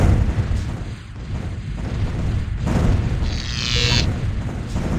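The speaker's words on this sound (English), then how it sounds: "I think that's the Tekan spaceport firing on the human defense platform" Weapons on a Tekan spaceport fire at a human defense platform in the space strategy game Distant Worlds. Low booms and rumbling blasts roll on continuously, with a high whooshing sweep near the end and no talk.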